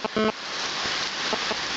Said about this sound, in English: until the rain eases off, because this is what we're facing at the moment